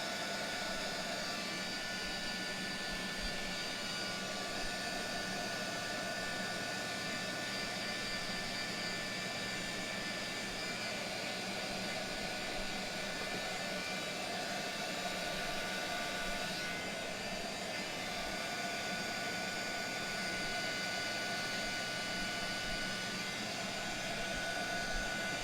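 Heat gun blowing hot air to dry paint on a painting: a steady, even roaring whoosh with a constant whine, held at the same loudness throughout with no pauses or talk.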